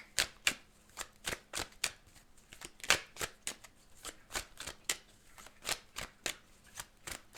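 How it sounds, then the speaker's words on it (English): A deck of True Crime Oracle cards is shuffled in quick, regular bursts, each a crisp, close riffle repeating steadily with no voices. "Next, we have the True Crime Oracle cards."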